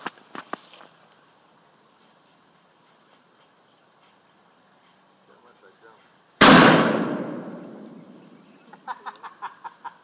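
A miniature old plated .70 caliber cannon fires once outdoors with a sharp, loud blast that rings and decays over a couple of seconds, preceded by faint clicks and ticks and followed by people talking.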